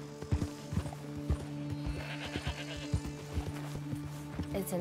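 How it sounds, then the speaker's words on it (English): An alpine goat bleats in Red Dead Redemption 2, mixed with nearby horse hoof clip-clops and whinnies over steady game ambience, with a voice talking briefly. "It's an alpine goat"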